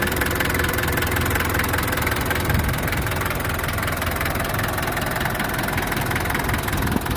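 A 1989 Daihatsu Taft GT 4x4 engine idles steadily up close, a continuous low rumble with a faint knocking rhythm and no talk.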